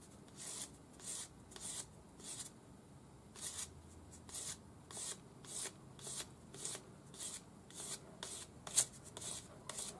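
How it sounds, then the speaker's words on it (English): Light sanding of an oxidized, unpickled silver ring by hand: quiet, repeated short scratchy rasping strokes in an uneven rhythm, close up, with no talk. "I'm just going to lightly sand it so you can see."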